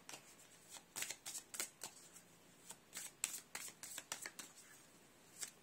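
A deck of essential oil cards is shuffled by hand, giving a quick run of crisp riffling flutters and snaps in bursts, close and fairly quiet.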